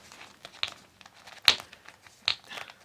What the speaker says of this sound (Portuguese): Tá rasgando tudo.